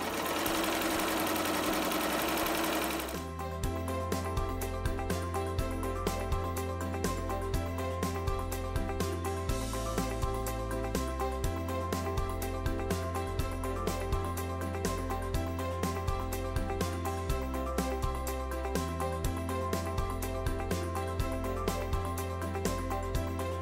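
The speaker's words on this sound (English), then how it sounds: "Once you press start, the machine will finish off the patch for you." An automatic embroidery machine stitching out a patch, running as a fast, even mechanical chatter of needle strokes with a steady hum, close and continuous after a brief burst of noise at the start.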